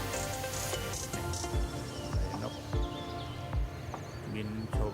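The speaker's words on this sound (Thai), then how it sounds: "เสียง เขียด ร้องเอ็ดเอ็ดเอ็ดเอ็ดอยู่นะครับ" Small frogs croak in a rural Thai field among grazing livestock, a dense chorus of rapid rattling calls over buzzing insects, with periodic low thumps and faint background voices.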